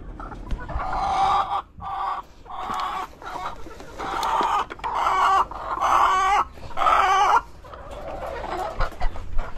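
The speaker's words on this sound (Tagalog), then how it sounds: "sa ating mga manok na to." Chickens kept for egg harvesting, clucking in repeated bursts close by, with short pauses between the calls and a dog audible nearby.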